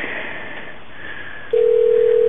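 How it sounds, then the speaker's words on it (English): A quiet, muffled line hiss gives way to a steady electronic telephone ringing tone that starts abruptly and holds loudly without a break. "Okay, it's ringing."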